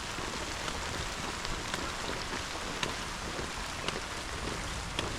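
Rain falling during a bike ride on the Brisbane Valley Rail Trail, a steady dense hiss of drops with occasional soft ticks, fairly faint and with no talk.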